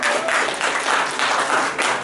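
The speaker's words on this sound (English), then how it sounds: "Give your friend a round of applause." An audience at a talk on persuasion breaks into a short, loud burst of clapping, dense and continuous for about two seconds with no voices over it.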